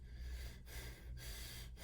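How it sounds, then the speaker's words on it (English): Quick breaths drawn through the mouth into the chest, a few short airy gasps separated by brief pauses, close and quiet with no talking. "So I'm taking air up here as if I'm jogging and I'm out of breath"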